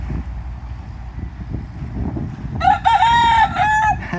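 A rooster on a street in Ybor City, Tampa Bay, crows loudly and fairly close after a stretch of low wind and outdoor rumble. The call is a single drawn-out cock-a-doodle-doo lasting over a second, with no talking.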